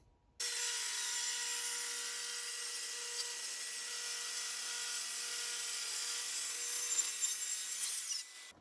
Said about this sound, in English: I'm going to use my track saw, give myself a perfectly clean edge that I can glue into.